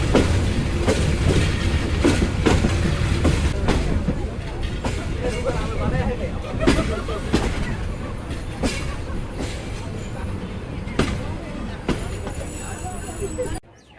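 Parabat Express passenger train rolls along the rails with a continuous rumble and rhythmic clickety-clack of wheels over joints, heard from inside the carriage, loud and steady throughout with faint voices in the background.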